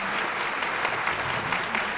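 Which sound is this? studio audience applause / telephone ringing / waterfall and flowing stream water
studio audience applause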